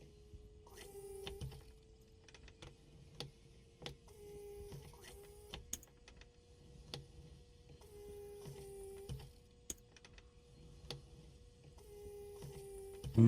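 Fuel primer being worked on a Carenado C170B in a flight simulator, a series of mechanical clicks and short whirring strokes repeating at a steady pace, moderately quiet, with no talk.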